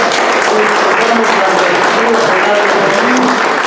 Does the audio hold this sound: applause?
yes